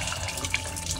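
Water runs steadily from a tap into a sink, a continuous close splashing hiss with no voices.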